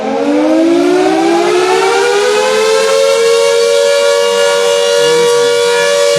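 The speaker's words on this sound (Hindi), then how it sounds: "देखिए एक बार फिर से सायरन जो है वो बजाया गया है।" A civil defense siren wails during a mock emergency drill in Shimla, rising in pitch and then holding a loud, steady tone that carries strongly across the area.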